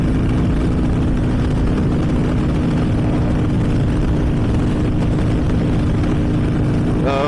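A Harley-Davidson motorcycle engine cruises at highway speed, about 70 mph at 3,500 RPM in top gear, giving a loud, steady, continuous drone mixed with wind rush.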